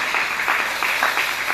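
A church congregation claps together in praise of the Lord, a dense, even wash of many hands with slightly swelling pulses, loud and close, with no voices standing out.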